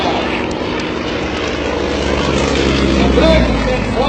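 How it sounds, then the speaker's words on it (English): Yak-18 and Yak-55 propeller aircraft take off side by side, their engines a loud, steady droning roar that swells slightly toward the end. "There goes the Yak-18, there goes down the Yak-55. Look at that simultaneous rolls on takeoff."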